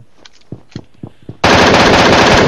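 Short clicks and taps come first, then a sudden loud, dense burst of M249 machine-gun fire in the video game PUBG Mobile, continuous and close for the final second.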